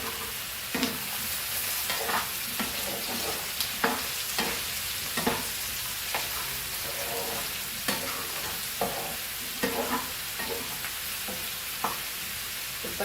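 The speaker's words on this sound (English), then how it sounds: "potatoes are also nicely fried" Goan fried rice with potatoes sizzles steadily in a pan on high flame, with regular scraping stirs of a spatula cutting through the constant frying hiss.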